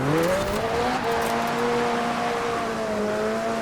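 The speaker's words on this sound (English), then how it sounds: "Approaching the final straight, we have to do a big old drift to celebrate" A McLaren drifting in Forza Horizon 4 on a final straight, with a steady loud engine drone that rises and holds, tyres hissing beneath, and no talking.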